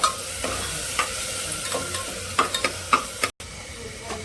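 Soaked toor dal going into a hot pot for sambar and being stirred, a steady sizzle with repeated scraping stirs and a brief dropout near the end, no talking.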